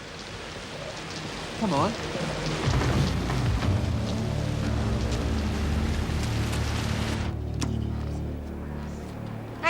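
Steady rain falls throughout, a dense broadband hiss that continues under brief speech and other activity before thinning slightly near the end.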